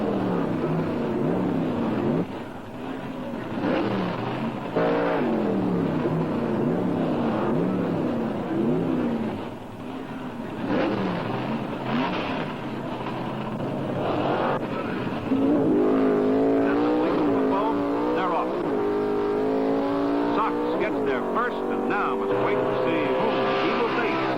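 Pro Stock drag race cars roar through a semifinal run at the Indy Nationals, engines droning and revving steadily throughout with no pause, while a commentator talks over the engine noise.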